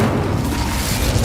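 An Incendio fire spell in Hogwarts Legacy lets off a short, dense booming blast that fills the whole moment with a rumbling burst and no talking.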